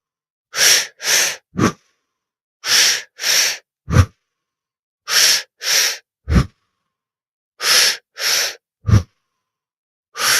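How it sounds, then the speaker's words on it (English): Deep, deliberate breaths during a guided breathing exercise, heard close and loud in repeated clusters: two or three strong breath bursts, then a short pause, in a steady cycle with no talking. "Just keep breathing."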